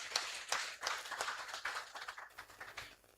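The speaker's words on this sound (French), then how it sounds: "Je veux bien que vous l'applaudissiez ici." Applause from an audience at the closing ceremony of an international African media fair in Dakar, a burst of fairly close clapping that gradually tapers off over a few seconds.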